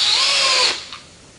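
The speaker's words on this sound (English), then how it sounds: "I'm going to go ahead and screw it up into place." Short whine of a power drill driving a screw into a column header, running at high speed for under a second and then winding down, close and loud.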